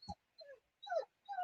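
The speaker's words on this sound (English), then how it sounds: "my puppy is giving me gob because I'm ignoring her" A pet puppy whimpers and whines in four short bursts, rising and falling yips with pauses between, close by and fairly soft in an indoor room.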